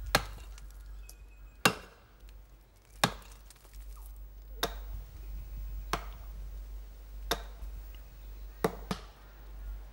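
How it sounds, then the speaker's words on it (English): Women chop down a thick hollow tree, the axe strikes falling one at a time as sharp, separate thwacks every second or so, with a quiet outdoor background in between. "No matter how thick the trees are, the women do not take long in chopping them down."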